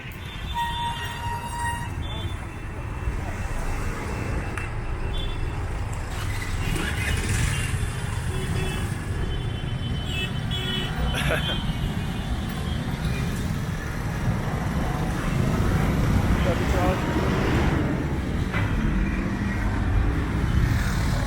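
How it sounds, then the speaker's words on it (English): Road traffic in Bangalore near UB City mall, a dense continuous rumble of passing vehicles with occasional horn toots, heard close under a steady wash of street noise. "So this is the way how we cross the traffic."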